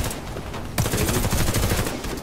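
Gunfire in the shooter game Warface, a dense, continuous burst of rapid shots that grows louder partway through and stays close and sustained with no talking.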